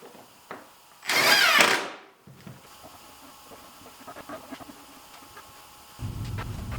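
A power drill drives pocket hole screws into a cabinet back in a home workshop, with one short loud whirring burst followed by faint tool handling, light clicks and a low hum coming in near the end.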